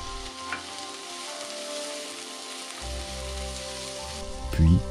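Shrimp fry with garlic and chili in a hot sauté pan, giving a loud, continuous sizzle with crackling bursts, a low hum beneath and a sharp thump at the end.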